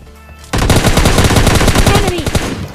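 An MK40 rifle in a solo-versus-squad shooter video game, fired as one loud, sustained automatic burst of rapid, evenly spaced shots that starts suddenly after a brief quiet moment and runs to the end.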